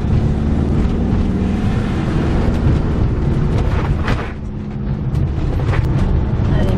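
A vehicle engine braking in first gear down a steep 10% descent on a mountain road in Turkey, a steady loud low drone with wind buffeting the microphone throughout.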